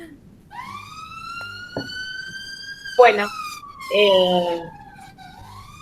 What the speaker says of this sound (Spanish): acá hay sirenas todo el tiempo